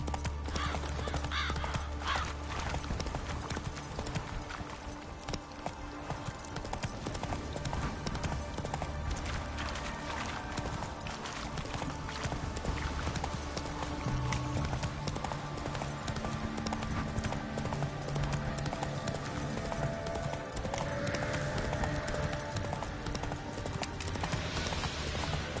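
Horse Roach trotting in The Witcher 3, a steady clip-clop of hooves running through the whole stretch, with an occasional whinny mixed into the dense game soundscape.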